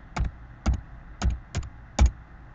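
A computer keyboard clicks five times in distinct, evenly spaced keystrokes, close and crisp in a quiet room, as a password is typed.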